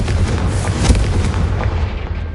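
A Confringo fire-blast spell detonates in Hogwarts Legacy, a loud, dense boom with heavy rumbling low end and a sharp peak near the middle, sustained through the short burst with no voices.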